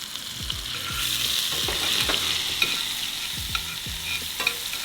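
Garlic frying in hot olive oil, a steady bright sizzle broken by repeated scraping stir strokes of a utensil across the pan.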